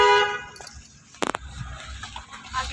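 Car horn gives one short, sharp honk midway, with traffic and engine noise around it on a road with blind turns.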